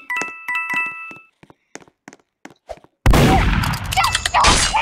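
A gunshot in the Roblox game Murder Mystery 2 erupts as a loud, sustained burst after a few short electronic chimes and light clicks.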